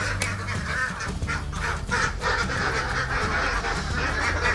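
Ratu MA laying ducks in a village duck pen, a loud flock quacking and honking in overlapping bursts close by, continuous with no pauses.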